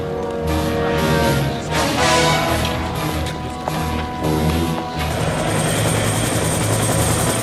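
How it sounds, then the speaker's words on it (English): A helicopter from the film Rambo: First Blood Part II flies in, limping, its rotor thudding loudly and steadily with mechanical whine and rattling, close and continuous without speech. "Helicopter's coming in, limping."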